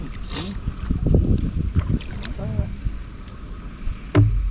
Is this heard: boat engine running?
yes